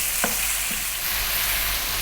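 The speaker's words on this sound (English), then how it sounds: "we're going to fry this just by itself for about 4 minutes" Ground beef keema frying on its own in a pan, a steady close sizzle with a couple of brief scraping stirs as the meat is broken up.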